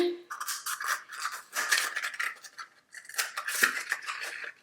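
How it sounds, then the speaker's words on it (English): Scissors snip through a cheap paper cup along its seam, a series of close, crisp cutting crunches and rustles in irregular bursts. "So we have just these cheap paper cups, and we're going to just cut down the seam"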